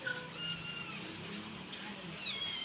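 Persian kittens, a litter of six, mew in several high, wavering cries, with a louder run of meows near the end, close by and with no talk over them.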